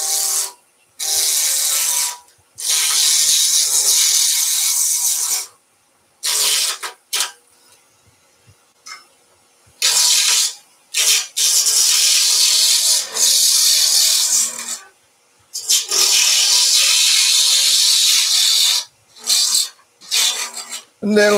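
A chisel cuts a resin and polyester pen blank spinning on a wood lathe, giving loud, close, raspy scraping bursts that start and stop repeatedly with short silent gaps between passes.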